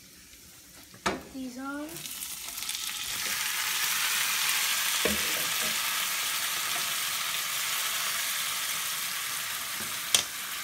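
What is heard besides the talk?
maitake mushrooms sautéing in a pan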